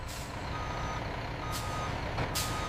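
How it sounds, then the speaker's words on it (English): A truck backs into a distribution center's unloading dock, with repeated reversing beeps over its rumbling idle and a couple of sharp hissing bursts, probably air brakes. "workers carefully guide the truck into the unloading dock."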